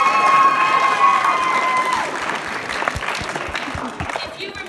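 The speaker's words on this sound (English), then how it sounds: "let's give our parents a round of applause" An audience at a school choir concert claps for the parents, with loud, sustained applause and some cheering that slowly thins out, voices mixed in.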